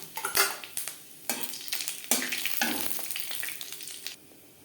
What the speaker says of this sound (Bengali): মাছের মাথা ভেজে নেওয়া কড়াইতে আবারও তেল দিয়েছি ফোড়নে দিয়ে দেব পাঁচফোড়ন তেজপাতা